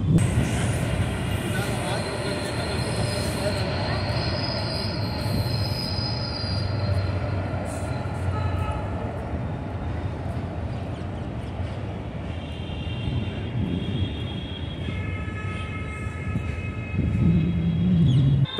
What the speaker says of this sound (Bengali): ওপর দিয়ে এখন ট্রেন যাচ্ছে, আপনাদেরকে দেখাই।